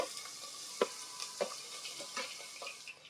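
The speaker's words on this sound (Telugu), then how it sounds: "ఆయిల్ వేడైన తర్వాత ఉల్లిపాయ ముక్కలు, పచ్చిమిర్చి, కరివేపాకు వేసి ఫ్రై చేసుకోవాలండి." Onions, green chillies and curry leaves frying in hot oil for a mutton gongura curry, a soft continuous sizzle with a few light stirring knocks, faint and close, no voices.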